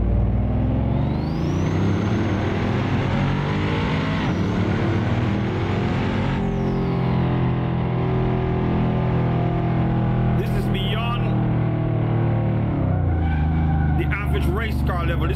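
Pagani hypercar engine in the Assetto Corsa driving game, a loud sustained aggressive drone with rising and falling revs, under continuous talking throughout.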